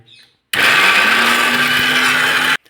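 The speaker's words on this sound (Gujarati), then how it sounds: "આપણે મિક્સરમાં ગ્રેવી કરવાની છે" A mixer grinder whirs loudly for about two seconds, a high steady whine that starts and stops abruptly.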